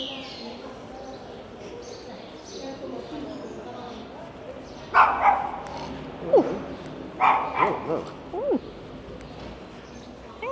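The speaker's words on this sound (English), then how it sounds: "He's a very angry little dog." A small dog barks angrily in a street of a Gran Canaria neighbourhood, a few sharp barks in two bursts midway through over outdoor background noise and nearby voices.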